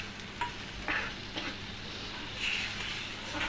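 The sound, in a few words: water poured into frying spice paste for stuffed aubergine curry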